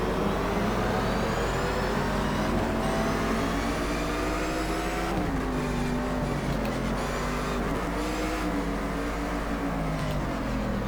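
Race car engines from the video game GT Legends roar steadily and loudly with no break, their pitch rising and falling as the cars shift and accelerate through the field.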